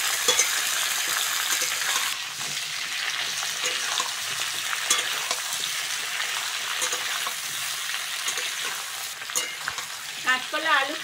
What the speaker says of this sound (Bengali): কাঁচকলা, আলু, পেঁপে ভালো করে ভেজে নেব।